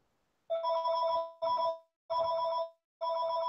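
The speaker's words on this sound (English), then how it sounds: "That's just my phone." A mobile phone rings nearby in a quiet room, sounding four evenly spaced bursts of a bright electronic ringtone, each about a second long with short silences between.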